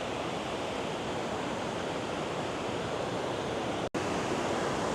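Water rushes over a dam spillway after heavy rain, a constant dense roar of broadband noise heard close and steady throughout, with one brief dropout near the end.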